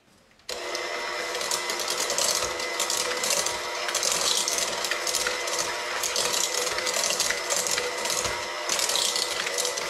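A stand mixer creams butter with 1.5 cups of white granulated sugar for cookie dough, starting abruptly and then running as a loud, steady mechanical whir with rattling and grinding texture throughout.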